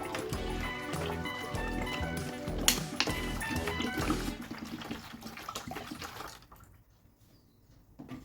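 Water pours and splashes into a container for several seconds while making phenyl, with a gurgling, bubbly texture, then tapers off and nearly stops near the end.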